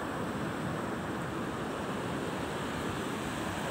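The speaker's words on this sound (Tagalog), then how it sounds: "Ay, hindi naman low tide, malalaki lang talaga alon." Big ocean waves break on a beach in a steady, continuous wash of surf with no talking.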